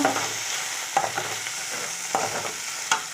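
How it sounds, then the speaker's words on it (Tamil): Ivy gourd (kovakkai) stir-fried dry in a pan with no water, a steady sizzle with several sharp scraping stirs of a spatula at a close distance. "இதை நம்ம தண்ணிலாம் ஊற்ற போகிறதில்ல இப்படியே தான் வதக்கணும்"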